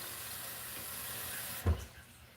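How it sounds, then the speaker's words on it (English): Water runs from a tap into a cup for making oats, a steady hissing flow close by, then a short thump and the flow tapering off, with no talking. "And we'll put in like most of a cup of water."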